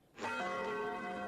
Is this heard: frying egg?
no